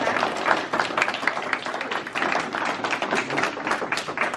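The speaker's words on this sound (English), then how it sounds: "So can we give everybody a little last minute clap?" An audience gives a round of clapping, many hands beating in quick, overlapping patters at a steady moderate level for several seconds with no voices on top.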